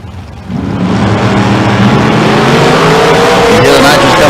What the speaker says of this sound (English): You hear the nitrous come on, big move there for Cape.